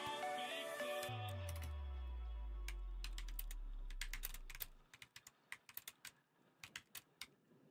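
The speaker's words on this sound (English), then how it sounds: "I'm typing." Typing on a computer keyboard, a run of sharp, close key clicks in uneven bursts, first under a fading low tone and then alone in near silence.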